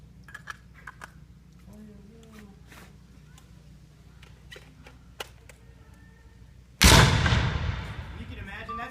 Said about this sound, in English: You can imagine that's just one rifle.